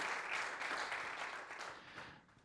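Audience clapping for a drummer at a jazz workshop concert, a steady wash of applause heard from some distance, fairly soft and fading slightly toward the end.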